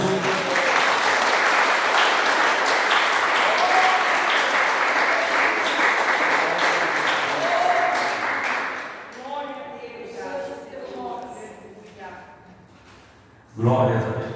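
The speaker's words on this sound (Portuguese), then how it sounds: "Uma salva de palmas para Jesus." A church congregation applauds loudly and steadily for about nine seconds in a large hall, then the clapping thins out and a voice speaks, followed by a short burst of sound near the end.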